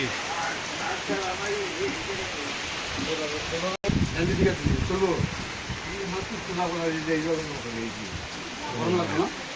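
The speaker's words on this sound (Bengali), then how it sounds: "বৃষ্টি কমতেছে না আরে বৃষ্টি" Steady rain pours down in a broad, constant hiss outdoors, while people talk over it throughout.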